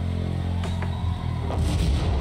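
Bomb explosions in the video game Interrogation: You Will Be Deceived land as heavy, rumbling booms over a low droning bed, with a couple of sharper blasts cutting in before a deeper rolling roar.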